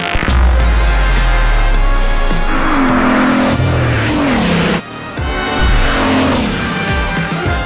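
Bugatti race car in Gran Turismo at Le Mans roars loudly through gear shifts with rising engine pitch, tyre squeal and a brief dip before accelerating again, close and dominant with no talking.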